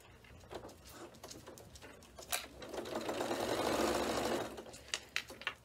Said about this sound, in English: So now we're stitching all the way around that edge.